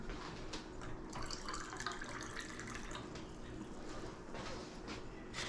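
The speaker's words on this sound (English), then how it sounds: "And the rest, I think I'm going to fill up with vinegar." Vinegar, distilled 5% from corn, is poured from a bottle into a jar of coleslaw being canned, a soft continuous trickle and gurgle heard close and fairly faint.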